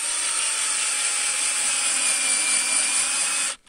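A power drill drives screws into beehive lids, a loud steady whine held close for several seconds before cutting off abruptly.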